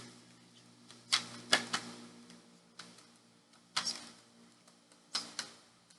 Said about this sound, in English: Lots of cards flipping over.